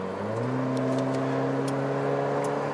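A modified Honda Civic running on LPG with a BRC system accelerates hard, its engine note climbing steadily in pitch as the revs build, loud and close throughout with no talk.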